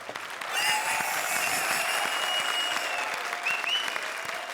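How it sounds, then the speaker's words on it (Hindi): A comedy show's studio audience breaking into loud, sustained applause that swells quickly and holds steady, with a few whoops faintly over the clapping. "चलो क्या तालियां बजा रहे हो"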